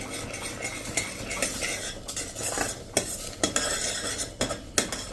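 A utensil stirs yellow cornmeal into boiling water in a pot over a medium gas flame, with steady scraping and repeated sharp knocks against the pot's sides, and no voices.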